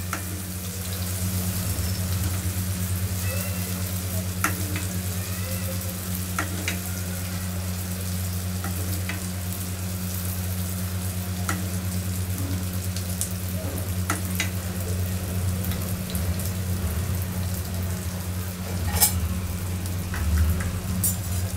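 Pasta snacks frying in hot oil in a small kadhai, a steady close crackling sizzle with occasional louder pops and stirring scrapes, continuous and unbroken, no talk.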